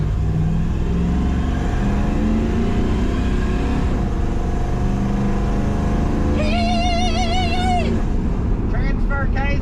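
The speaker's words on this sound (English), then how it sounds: "Transfer case is still noisy" A truck driving with a noisy transfer case: a steady, loud drivetrain drone and whir runs throughout, and a rising whine-like tone comes through near the end.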